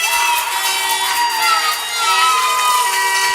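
Crowd at a U18 female ice hockey game cheering loudly, with high-pitched shouts and whoops, continuous throughout.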